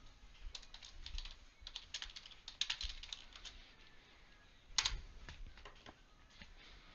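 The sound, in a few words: typing a question on a computer keyboard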